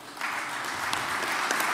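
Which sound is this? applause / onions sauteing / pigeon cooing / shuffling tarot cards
applause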